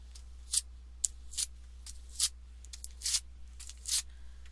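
Several short, sharp rips of tape being pulled and torn off a roll while painting a watercolor raccoon, about six quick bursts spaced irregularly over a quiet background with a low steady hum.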